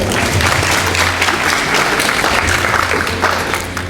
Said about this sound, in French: Pour ce, applaudissez-les s'il vous plaît.